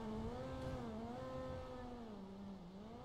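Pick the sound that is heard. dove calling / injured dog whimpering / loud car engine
loud car engine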